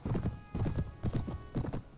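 Horse hooves clip-clop at a steady trot in Mount & Blade: Warband, Viking Conquest, with four even clusters of hoof falls that are close, solid and low in pitch, with no talk over them.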